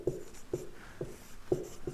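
Writing during a maths lesson, heard as five soft knocking taps spaced about half a second apart, with a faint scrape between them. It sounds close and quiet with no talking.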